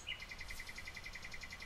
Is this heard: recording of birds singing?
yes